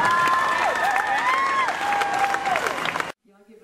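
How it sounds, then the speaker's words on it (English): An audience applauds and cheers to welcome a singer onto a stage, steady clapping from a crowd that fills the space for about three seconds before cutting off abruptly, with a sustained musical tone running underneath. "Y'all give a big round of applause to Mary Fletcher."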